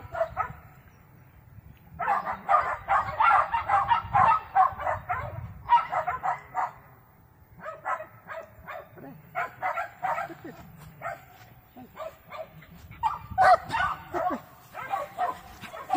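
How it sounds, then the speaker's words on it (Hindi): A dog barks in repeated bursts while running an agility course, with short yips and whimpers between clusters of loud, close barks. "ये देखिए, कुत्ता अपने करतब का मुजाहरा कर रहा है।"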